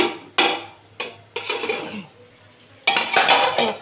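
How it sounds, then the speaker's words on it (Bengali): A metal lid lifted off a cooking pot of pumpkin and hilsa fish head curry produces several sharp clanks and rattles of metal cookware in quick bursts, with quieter gaps between them and no talk. "ঢাকা দিয়ে দিলাম। খুলে দেখি কেমন হলো।"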